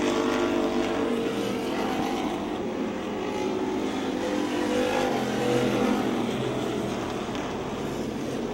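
Race cars run a lap at a speedway, a steady loud engine roar that hangs at the same level throughout, with no distinct pass-by swells and no voices over it.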